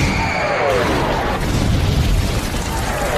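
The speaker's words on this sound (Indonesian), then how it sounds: "tembakan meriam-meriam Polandia dengan mudah menjangkau meriam-meriam Ottoman" Heavy artillery booms in a battle between Polish and Ottoman cannons, a dense rolling barrage of blasts and rumbling bursts that stays loud throughout.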